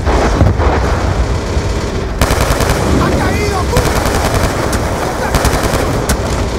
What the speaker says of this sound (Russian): Перестрелка слева!